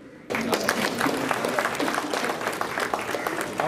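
Applause breaks out from a crowd at a BJP state office flag-hoisting event, dense steady clapping that starts abruptly and continues throughout.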